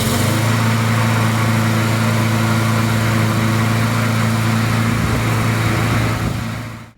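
A lawn mower engine, freshly serviced with a sharpened blade, new oil and new fuel, runs steadily and loudly close by with a strong even drone, then cuts off at the very end.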